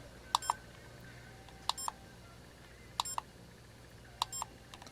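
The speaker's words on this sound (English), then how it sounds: "Let's take a picture. It just beeps." Short double electronic beeps from a Curtis CoolCam DCD-1200 digital camera taking pictures repeat four times at regular intervals, clear and bright over a quiet background.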